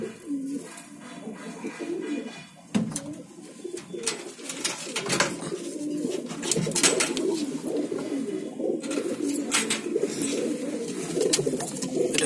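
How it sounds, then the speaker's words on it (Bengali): Pulsar and Dasu breed pigeons coo over and over in a loft, giving a dense layered murmur of rolling calls against steady rustling and clatter that runs through the whole stretch. "আমার মন পছন্দ পায়রা হাড়ুকুটু লাইনের পায়রা"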